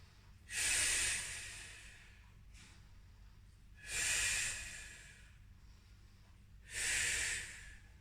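Three slow, deep breaths during a held Pilates stretch on a mat, each a loud, airy hiss spaced a few seconds apart with quiet pauses between.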